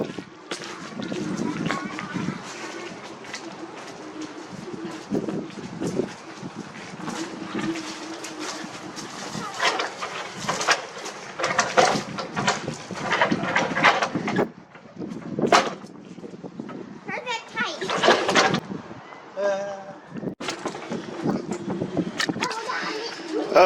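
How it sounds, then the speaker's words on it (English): Strong wind gusts roar and buffet through tents at a sailboat anchorage after a rainstorm, a steady rushing noise with louder surges, while someone talks over it. "The winds are whipping through these tents."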